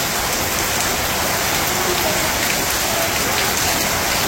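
Heavy rain falls on a flooded homestead in Bangladesh, a steady, dense hiss of drops striking surfaces close by, unbroken and even throughout with no voices.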